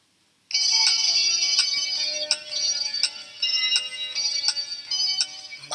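A bright electronic chime from a read-along storybook signals the page turn. It rings loud and alone as a repeating melodic tone pattern for several seconds, like a phone ringtone, with no speech.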